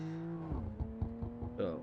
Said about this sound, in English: some nice exhaust pop backfire that I can hear popping off back there